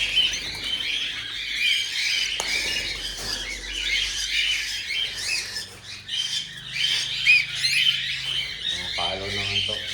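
Chirps, squawks and squeals from a group of birds being caught up for harvest, busy and close with scattered flutters, under a voice speaking in Filipino.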